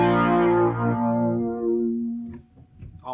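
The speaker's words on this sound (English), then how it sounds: "I'm also going to bring up the level on the second oscillator to kind of create a thicker sound like this." A Deepmind 12 synthesizer pad thickened by raising its second oscillator, a rich sustained chord with dense harmonics that fades over about two seconds, followed by faint brief noises.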